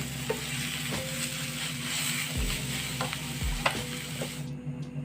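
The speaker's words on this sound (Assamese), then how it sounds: "কলফুলখিনি ভাজি লোৱা হৈ গ'ল।" Banana flower frying in a pan for an Assamese local chicken dish, giving a steady soft sizzle with occasional scraping stirs and light clinks, fairly quiet and close, with no talking.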